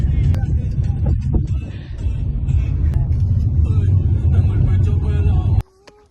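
A car drives along a road with a steady, loud engine rumble and road noise close by, while people talk inside; the sound cuts off sharply near the end.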